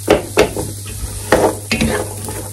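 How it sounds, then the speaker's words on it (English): Celery, onions, garlic and carrots sauté in a large stock pan, with a steady sizzle under several scraping stirs of a utensil against the pan and a low continuous hum. "So I've got my celery, my onions, my garlic, and my carrots. Gonna leave those to sauté for about 5 minutes or so."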